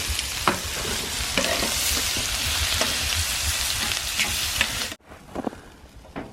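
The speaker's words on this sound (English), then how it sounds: "So we got asparagus and mushrooms cooking on hot plates right on the stove." Asparagus and mushrooms fry on hot plates atop a wood stove in a wall tent on a frozen lake, giving a dense, steady, close sizzle with crackles that abruptly drops to a much quieter spatter for the last second or so.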